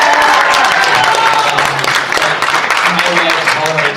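A Comic Con panel audience cheers and applauds loudly in a dense, sustained wave of clapping and whooping that fills the room and slowly thins out toward the end, with voices mixed into the crowd noise.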